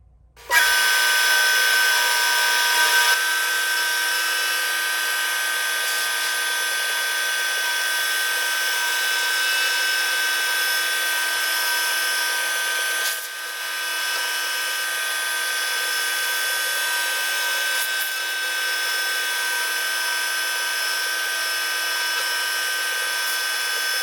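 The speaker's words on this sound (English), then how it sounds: "with a ball nose end mill, I'm going to cut the profile in 3D" A milling machine with a ball nose end mill cuts a titanium kukri profile, giving a steady high-pitched whine and cutting hiss that runs on loud and unbroken, with only slight dips.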